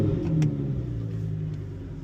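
A Lamborghini Huracan EVO engine running just after start-up, a loud, steady low rumble with a brief rise in revs near the start, then settling into an even idle with no talking.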